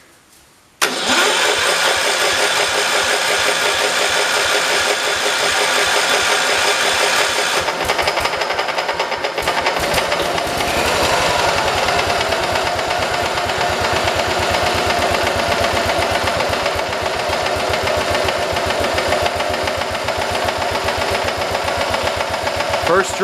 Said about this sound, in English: First run in the new tractor.